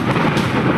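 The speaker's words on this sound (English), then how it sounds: "The clap of thunder makes Trixie's blood run cold and tears prickle her eyes." A short, loud rumble of thunder fills the whole moment as a dense, broad roar with no speech over it.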